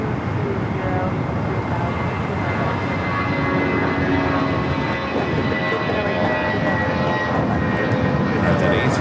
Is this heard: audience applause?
no